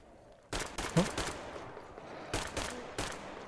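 Pellet gun shots in Metro Exodus, several sharp loud bursts in a short sequence with brief gaps, close and punchy over a quiet background.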